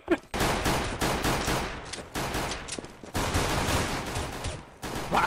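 Gunfire rattles in CS:GO, with rapid bursts of automatic fire and overlapping shots coming in several volleys separated by short pauses, loud and close.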